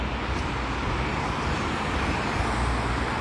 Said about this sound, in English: Now there's so many cars.